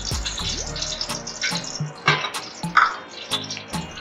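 Cooking oil poured into a large pot to start a beef degi pulao, a thin liquid trickle with clinks and a few sharp knocks of the pot close by.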